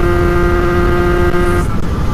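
A Peugeot NK7 with a non-original replacement engine is pushed flat out on a short test run, giving a loud, close, steady high-revving buzz with strong harmonics that wavers slightly near the end.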